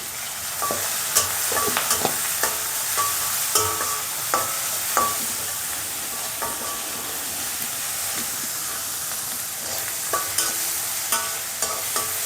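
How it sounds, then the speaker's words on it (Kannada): Carrot, onion and chili sizzle and fry in a pan, a constant bright hiss broken by sharp scraping clicks of a spatula stirring at irregular intervals, close and fairly loud. "ಇವಾಗ ಇದು ಚೆನ್ನಾಗಿ ಫ್ರೈ ಆಗಬೇಕು."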